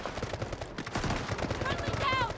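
Rapid automatic gunfire in the shooter game Delta Force, dense bursts of shots crackling near and loud, with other game effects mixed in.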